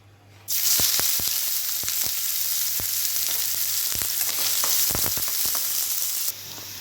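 Onion drops into hot oil in a kadhai and sizzles loudly and steadily, with occasional clinks and taps of a spoon against the pan, until the sizzle fades near the end.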